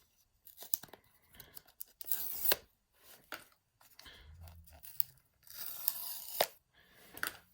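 Plastic pull tab torn and peeled off a Samsung Galaxy Fold 5 retail box, close up, in several short crisp ripping bursts with brief pauses between them.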